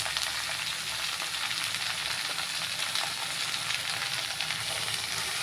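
Ridge gourd fries in oil in a wok with nigella seeds, giving a loud, dense, steady sizzle and hiss that stays even throughout with no talking.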